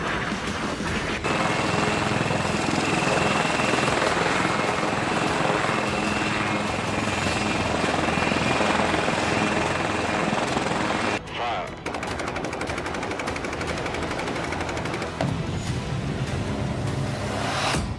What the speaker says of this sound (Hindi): लाइट कॉम्बैट हेलीकॉप्टर ये हिंदुस्तान ने बनाया है।